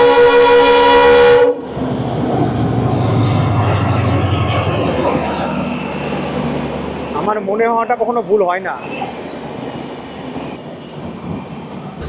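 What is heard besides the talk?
Garib Rath Express train running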